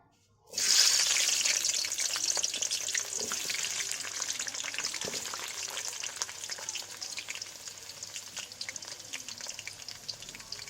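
Cut potatoes frying in hot oil in a home kitchen for a Bengali fish curry meal, a loud steady sizzle that bursts in suddenly and holds throughout with faint stirring clinks.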